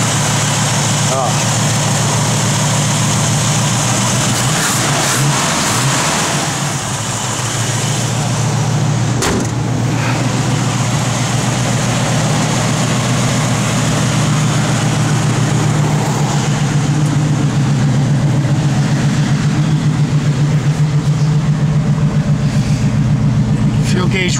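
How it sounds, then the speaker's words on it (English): A 1969 Chevrolet Camaro RS big block idles steadily nearby in cold weather, a deep, even rumble that holds throughout while people talk over it. "Good running big block."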